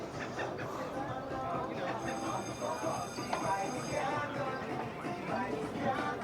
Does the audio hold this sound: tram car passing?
yes